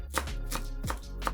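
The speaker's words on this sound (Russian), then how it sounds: "Измельчаем небольшой пучок петрушки." A kitchen knife chopping a small bunch of parsley on a board, four quick crisp cuts in a steady rhythm, close and clear.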